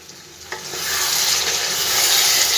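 Chicken being stir-fried in a pan hisses and sizzles loudly up close, a scrape of stirring near the start before the frying swells into a sustained, rising sizzle with no voices.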